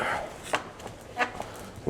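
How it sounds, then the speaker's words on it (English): A knife chops streaky bacon lengthwise on a board, a few sharp, irregular cutting knocks under a faint background hiss, close and moderately quiet, no voices. "all I'm doing with this is just chopping the bacon along the length"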